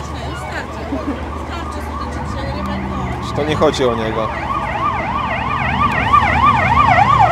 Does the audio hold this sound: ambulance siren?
yes